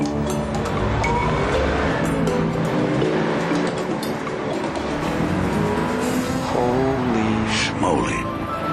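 A Porsche Boxster drives past in a TV spot, engine revving and rising in pitch with a brief tire squeal, loud and close over music and talk.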